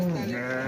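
A sheep bleats at a livestock market, one wavering, close call that holds for the whole moment over a dull background murmur.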